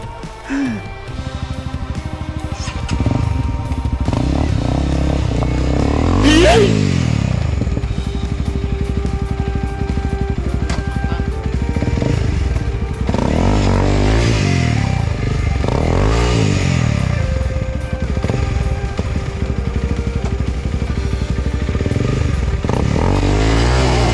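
Off-road dirt bike motorcycle climbing a steep slope of large rocks on a trail near Kanchanaburi, engine revving and surging continuously up close with clattering and scraping over stones, loud throughout and alone.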